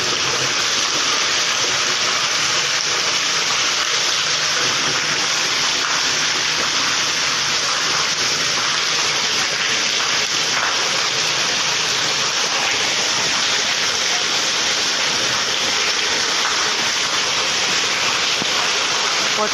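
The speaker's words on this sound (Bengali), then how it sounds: "প্রচণ্ড পরিমাণে বৃষ্টি হচ্ছে" Heavy rain pours down in Jodhpur, Rajasthan, a dense, loud, unbroken rush of water that holds steady from start to finish with no pauses and no voices.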